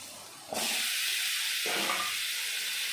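Fried potatoes drop into sizzling spice paste in a pan for a fish curry, a sudden loud hiss bursting up and holding steady, with a second surge a second later; close and continuous, no talking.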